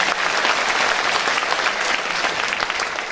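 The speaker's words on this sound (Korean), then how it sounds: "다시 한번 큰 박수 부탁드립니다" Audience applause at a gubernatorial inauguration ceremony in North Jeolla Province, following a daegeum performance: steady, dense clapping from a full crowd, sustained evenly for a few seconds with no voices over it.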